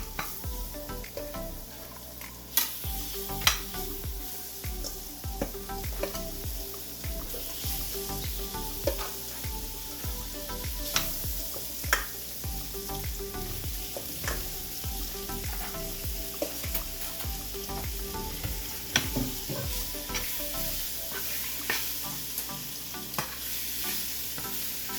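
Pre-seasoned shrimp hitting a hot pan in a Jamaican kitchen, a dense continuous sizzle with frequent spatters and clicks of a utensil stirring, close and steady throughout with no talking.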